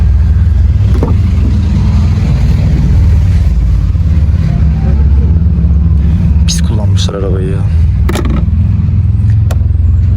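The engine of a Fiat Fiorino idles with a steady low rumble, close by, while people talk over it.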